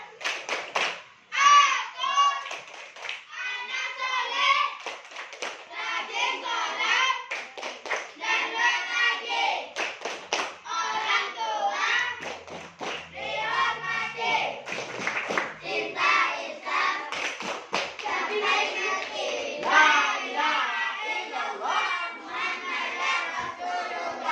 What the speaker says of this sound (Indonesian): Tepuk anak soleh.